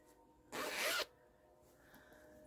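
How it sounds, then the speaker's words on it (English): A single brisk zip runs for about half a second as the zipper on a fully quilted, lined fabric pouch is pulled open or shut. It is close and clear against a quiet room, followed by faint handling rustle. "The brown zipper, and this has got a black zipper"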